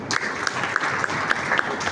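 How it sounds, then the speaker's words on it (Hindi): Audience applause at an honouring ceremony held at the Jat Dharamshala in Kurukshetra, a steady dense clapping throughout with no voices over it. "जोरदार तालियां।"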